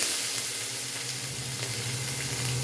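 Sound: mustard seeds and spices sizzling in oil

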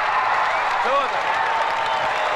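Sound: ovation for bullfighter Alfredo Leal at a bullfight

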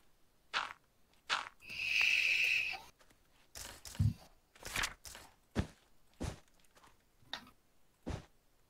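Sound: footsteps in RLcraft Minecraft video game

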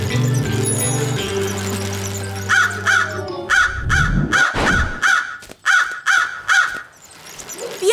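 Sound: crows cawing in a PAW Patrol cartoon

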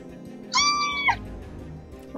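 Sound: crane bird call in Feather Family video game

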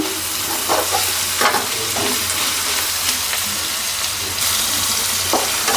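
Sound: egg fried rice frying with salt in a pan

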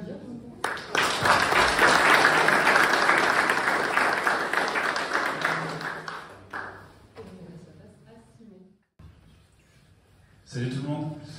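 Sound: applause for a speaker at AI meetup

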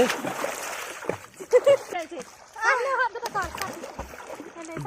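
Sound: child splashing while swimming in water

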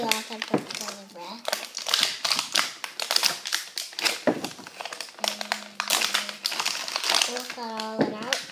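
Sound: opening Shopkins packaging

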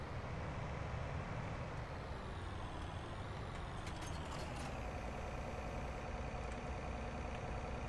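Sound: John Deere tractor engine rumbling in Farming Simulator 19 video game

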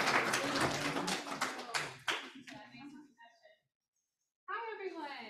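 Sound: audience applause for a guest lecturer

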